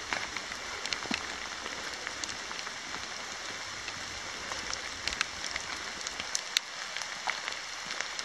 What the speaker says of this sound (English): outside walking in the pissing down rain. I mean, it's really coming down.